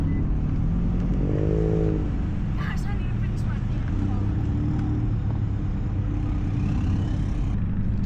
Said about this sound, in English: This is the car that's making all that noise over there.